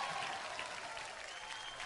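Brief, steady applause from an audience for Parineeti at the Filmfare Awards 2025 show, an even wash of clapping heard at moderate distance.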